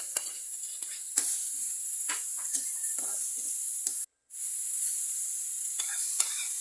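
Chayote stir-fries with green beans in a pan for pancit bihon under a bright steady sizzle, with repeated spatula scrapes and taps and a brief cut to silence partway through.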